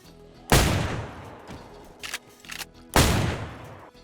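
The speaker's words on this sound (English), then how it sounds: "As you can see, this shotgun is very loud, as are all shotguns" Two loud shotgun blasts in the DayZ video game, each a sharp, booming report with a long decaying tail, spaced about two and a half seconds apart, with faint softer clicks of handling between them.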